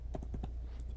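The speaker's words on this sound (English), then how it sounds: "We enter password of the Mac." Quick keystrokes on a Mac keyboard enter a password during a macOS update install, four or five soft, close taps in a brisk run followed by a pause.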